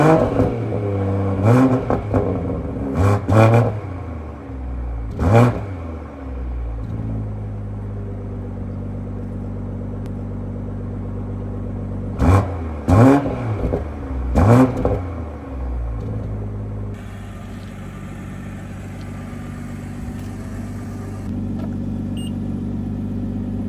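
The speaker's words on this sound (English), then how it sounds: "I'm gonna give you guys some revs." A BMW G82 M4 coupe engine revs hard in several sharp bursts, roaring up and dropping back to a steady idle between them.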